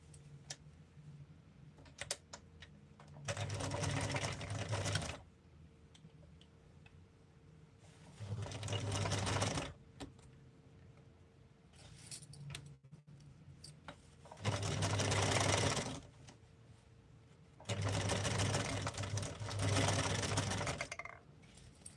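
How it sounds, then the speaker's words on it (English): A sewing machine stitches fabric in four steady whirring bursts of a few seconds each, with quiet pauses between, close and alone. "And we're just going to sew that part."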